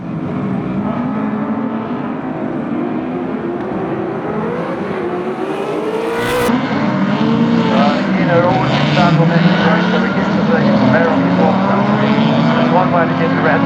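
Turbocharged production race cars at the 2021 Baskerville circuit roar past on track, engines rising in pitch as they accelerate, with a commentator talking over the loud continuous drone.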